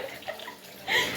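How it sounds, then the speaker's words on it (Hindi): Water splashing and trickling as raw chicken is rinsed in a basin of cold water, a short close burst that swells louder near the end. "चिकन मैंने धो दी ढंग से, पानी से निकाल के रख रही थी"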